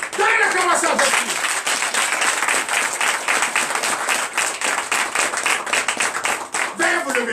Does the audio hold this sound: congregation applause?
yes